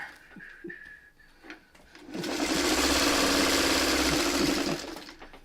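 Sewing machine stitching quilt patches for a mini four-patch block: a steady, close mechanical whir runs for about three seconds after some soft handling clicks and rustles, then stops.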